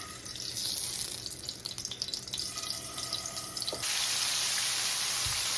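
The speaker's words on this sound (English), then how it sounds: "I'm gonna go ahead and put in my oil to fry my shrimp inside" Cooking oil poured into a pan for frying shrimp in a spaghetti stir-fry: a steady, close liquid wash that jumps to a louder, even hiss partway through.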